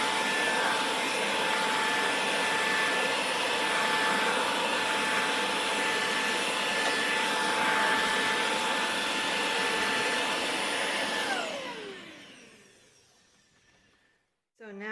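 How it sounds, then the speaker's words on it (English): Steady vacuum cleaner roar with a high whine runs loud and continuous while going over a laptop keyboard, then switches off and winds down to near silence. "Then you take your vacuum,"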